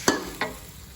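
Sliced stingray being stir-fried with curry paste in a hot pan for a spicy curry, two quick scraping stirs with short sizzles, close and fairly loud.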